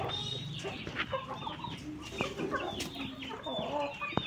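Hen of laying age clucking repeatedly in short, irregular calls at close range, with other fowl sounds mixed into the background and no talking.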